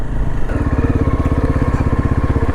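A motorcycle engine putters close by in flash-flood conditions in Himachal Pradesh, its loud rapid rhythmic chugging settling into a steady throb after a brief rev at the start.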